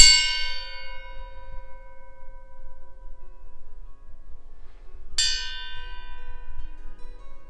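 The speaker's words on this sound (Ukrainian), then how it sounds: "прив'язуємо його за вірьовочку, щоб він був у вільному весінні і ударяємо" Two clear metallic rings from a steel shamshir sabre blade hung free on a string, each struck sharply and left to decay with a long bright shimmer; the second strike comes after a few seconds of fading tone.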